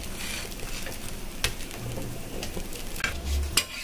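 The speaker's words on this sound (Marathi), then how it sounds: "इथं आपले छान प्रकारे पाव फ्राय होत आहेत मस्तपैकी।" Pav bread rolls fry in butter on a hot pan, sizzling steadily with a couple of sharp utensil clicks and scrapes.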